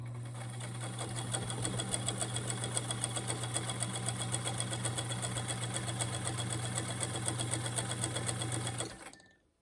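A Kingston Deluxe sewing machine stitches at a steady pace, producing a continuous mechanical hum and rapid needle chatter that runs unbroken for about nine seconds, then stops abruptly.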